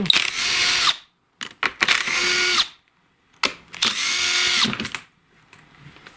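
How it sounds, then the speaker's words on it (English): A power driver with a Torx T27 bit backs screws out of a STIHL chainsaw handle, three loud whirring bursts of about a second each separated by silence and small clicks. "you will see a Torx T27 screw in those as well. So I'll just get these out right now."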